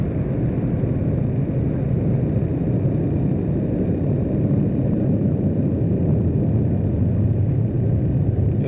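Military jets taking off from Incirlik air base in January 1991, heard from the far end of the runway as a continuous deep engine roar and rumble that stays steady and fairly loud with no voices.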